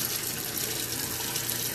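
Water from a kitchen tap runs in a steady, moderately loud stream while cooking, with no voices over it.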